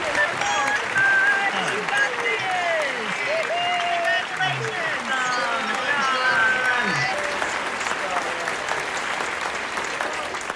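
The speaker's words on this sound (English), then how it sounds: "Faculty, please join me in giving your students a well-deserved round of applause." At a university commencement ceremony, faculty applaud the graduating students with sustained, even clapping, while cheers and voices carry over it and hold steady for the full stretch.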